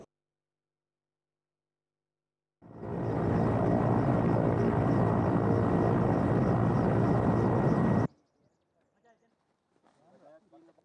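A loud, steady rotor roar from a Bell 212 or Mi-17 helicopter cuts in abruptly, holds for about five seconds, then stops, followed by faint background sounds.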